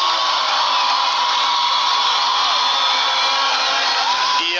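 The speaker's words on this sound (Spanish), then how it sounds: "Así felicita, aplaude y grita el aficionado" A large stadium crowd at a Costa Rica versus El Salvador women's football match roars and cheers continuously, a dense, loud wash of shouting voices with no break.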